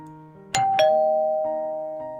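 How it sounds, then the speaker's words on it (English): A two-tone ding-dong doorbell chimes in the video game Eternal Hour: Golden Hour. The bell rings clearly over quiet background music and its tone lingers as it fades. "Ooh, my doorbell."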